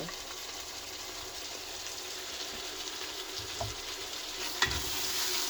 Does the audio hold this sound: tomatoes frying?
yes